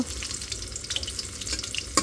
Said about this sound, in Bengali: বাকি যে মাছটা আছে ওটা ভাইজে নেব